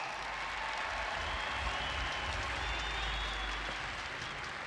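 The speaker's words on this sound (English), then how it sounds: "Give him a round of applause." Crowd applause fills a bass fishing tournament weigh-in at a professional championship event, a steady, dense wash of clapping that holds at an even, moderate level throughout with no voices standing out.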